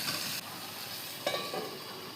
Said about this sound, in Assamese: পিঁয়াজখিনি ভাজি থাকোঁতে হালধিখিনি দি দিওঁ